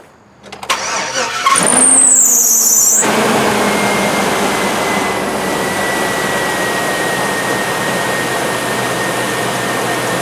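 Swapped engine in a 2004 Cadillac Escalade cranking and starting with a whine, then settling into a loud, steady but slightly uneven idle, close up and without talk.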